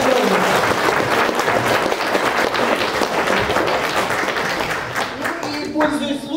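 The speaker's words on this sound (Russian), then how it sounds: "Бурные аплодисменты!" A concert hall audience gives enthusiastic, sustained applause at a jubilee concert, dense clapping that stays loud and then tapers slightly toward the end.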